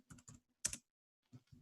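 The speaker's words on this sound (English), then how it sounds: "and here we can type node" Several quick bursts of keystrokes as a command is typed on a computer keyboard into a terminal, in a short cluster with brief pauses, close and fairly quiet with no talking.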